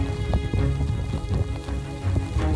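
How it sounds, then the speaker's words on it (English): Rain falls at a seashore at high tide, a dense, steady patter of drops on hard surfaces with a continuous wash beneath, moderately loud, and no voices. "And as usual, now started to rain."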